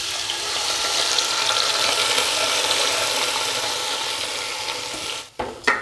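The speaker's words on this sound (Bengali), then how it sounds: "একটু ভালো করে ঘি আর তেলের সঙ্গে চালটাকে মিশিয়ে নেব" Washed basmati rice is stirred through ghee and oil in a cooking pot, giving a steady close sizzle with scraping that carries on evenly, then a few brief clatters near the end.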